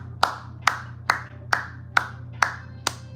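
One person claps seven times in a slow, regular rhythm. The crisp hand slaps are close and distinct over a faint constant background hum.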